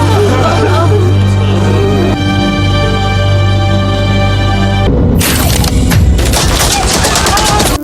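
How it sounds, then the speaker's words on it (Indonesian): Rifle gunfire barrage from the action film Yodha, starting as dense rapid shots over a droning, humming backdrop, then turning into loud, chaotic bursts of fire with crashing impacts, close and relentless, with no voices over it. "Baru saja membuka pintu, Arun sudah dibombardir dengan tembakan senapan."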